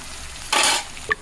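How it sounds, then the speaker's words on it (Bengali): Chopped onions with bay leaf and cinnamon hit hot oil in one short sizzling stir, followed by a faint clink of a utensil. "পেঁয়াজটা একটু লাল আকারে ভেজে নিব।"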